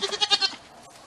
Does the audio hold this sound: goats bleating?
yes